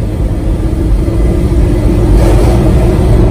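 A 1995 Toyota Tacoma 4x4 pickup with high mileage, its engine accelerating under steady throttle, a loud continuous rumble that builds slightly in intensity toward the end, with no talking.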